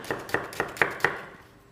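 A knife chops diced onion finely on a board, five crisp even strokes in a steady rhythm, close and clear, then a short quiet tail.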